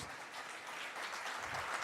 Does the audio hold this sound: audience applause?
yes